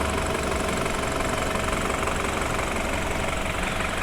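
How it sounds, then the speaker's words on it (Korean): A BMW X3 xDrive 28i engine idles steadily up close, an even mechanical hum with a light ticking knock and no talking. "엔진 소리도 일정하네요."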